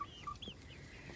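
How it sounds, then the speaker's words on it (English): Young chickens in a playpen let out soft, high peeping clucks, a few short chirps in quick succession, faint and close, over a low background hum. "these are 9 little chickens"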